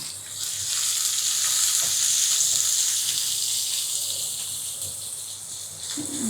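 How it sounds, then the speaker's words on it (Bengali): Chopped onion, garlic and pointed gourd peel fry in oil while being stirred toward browning, a loud, even sizzle with soft scraping strokes running throughout, close and without speech. "যতক্ষণ পর্যন্ত ব্রাউন না হবে আমি নাড়তে থাকবো নাড়তে থাকবো"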